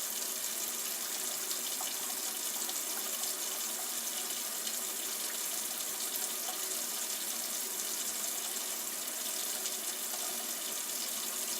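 A faucet runs in a steady, hissing stream for several seconds, unbroken and fairly close, with no voices.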